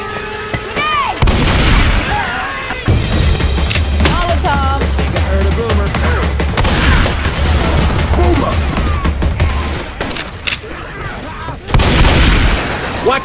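Grenade and Molotov blasts in the Left 4 Dead 2 video game, dense bursts of booming explosions and gunfire-like cracks running throughout amid busy game noise, with voices calling out over the action.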